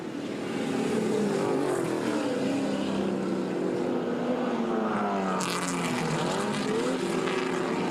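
Touring cars race up the mountain at Bathurst in 1976 with loud, sustained engine drones rising and falling in pitch as they pass close by.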